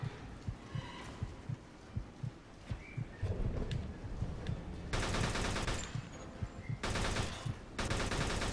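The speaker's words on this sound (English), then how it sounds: "Where the fuck is that gunfire coming from?" Gunfire in the video game Mafia II, with dull repeated thumps early on, then loud sustained bursts of rapid automatic fire in several blasts, close and harsh.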